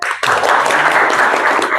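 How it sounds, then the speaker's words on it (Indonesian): A burst of loud, dense clapping from a crowd starts abruptly and continues steadily throughout. "Sekali lagi tepuk tangan."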